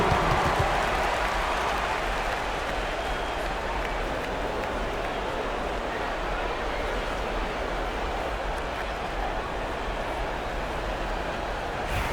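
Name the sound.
arena crowd applause in NBA 2K video game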